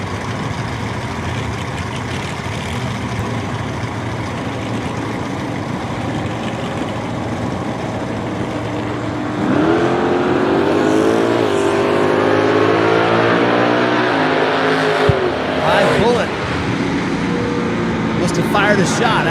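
A 1963 Ford Fairlane drag car with a big block Chevy engine at a dragstrip, a loud steady engine roar that swells into harsher revving midway, with a track announcer talking over it throughout.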